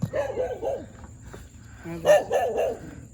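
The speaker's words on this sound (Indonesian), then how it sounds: "Sudah ada guguk, guys." A dog barking outdoors at a stopping spot, two bursts of several quick, fairly close barks separated by a brief pause.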